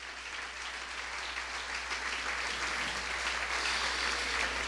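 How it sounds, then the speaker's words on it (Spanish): A church congregation applauds as an offering to the Lord, a dense, sustained wash of many hands clapping steadily throughout, building slightly toward the end, with no talk over it. "Le damos una ofrenda de palmas al Señor."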